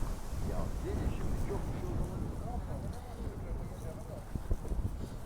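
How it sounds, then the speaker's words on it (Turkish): Steady wind buffets the microphone with a low roar, while a voice talks faintly underneath. "Bu rüzgar şaka mı?"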